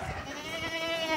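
A young goat kid at a goat farm in Padgha, Bhiwandi, lets out a close, wavering bleat with a strong tremolo that runs through the whole moment over steady farmyard background noise.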